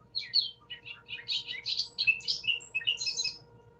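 A bobolink sings a rapid, bubbling series of beeps and bops, moderately close over faint background hum.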